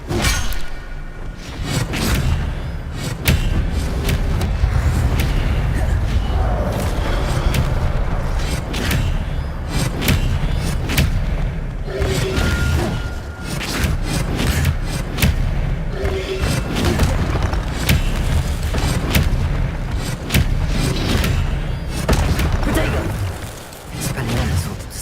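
Spell combat in the video game Hogwarts Legacy with the Expelliarmus disarming charm being cast, a dense loud stream of whooshes, booms and thuds repeating throughout, with voices mixed in.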